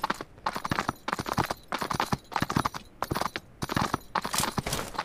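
Horse hooves gallop in the PUBG Mobile video game, a fast steady clip-clop that runs throughout and sits close and clear with no talk over it.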